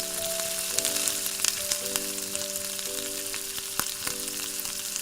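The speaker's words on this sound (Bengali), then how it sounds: "এবার আমি সয়া সসটা দিয়ে দিলাম, দিয়ে একটু নাড়াচাড়া করে নেব।" Capsicum frying with soy sauce for chili chicken, with a dense close sizzle and crackle, a few sharp spatula taps, and a faint tonal hum in the background, with no speech.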